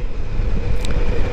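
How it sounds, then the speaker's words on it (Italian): Honda Goldwing and BMW touring motorcycles riding as a group of three on the road toward Aosta, a steady loud rumble of engine and wind noise with no talking. "Siamo in tre moto, come vedete un BMW e un'altra Goldwing che fa da tour leader."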